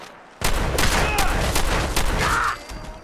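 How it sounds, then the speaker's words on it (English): Shotgun blasts from the video game Fallout 4 (Far Harbor DLC), a burst of loud, close gunfire starting abruptly and continuing in rapid repeated shots for about two seconds before cutting off. "Let's go back to the freaking shotgun"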